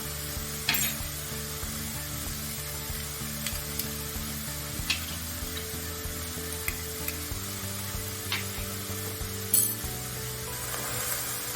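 Garlic, ginger, green chilies and curry leaves sizzle steadily in a hot pan for a crab roast, a loud continuous frying hiss broken by occasional clicks and scrapes of stirring, heard without talk.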